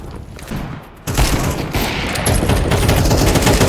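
Rapid gunfire from a shooter video game, sustained bursts of fusillade that start quieter and then swell to a loud, dense, continuous barrage for several seconds.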